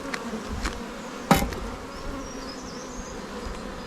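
Honeybees buzz in an open hive during a check of an artificial swarm, a steady, close, dense hum with one sharp knock partway through and no talk.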